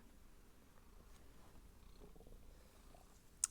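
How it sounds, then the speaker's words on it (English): Soft, steady purring from a cat close by, a faint low rumble with a brief sharp click near the end. "Oh, you're purring."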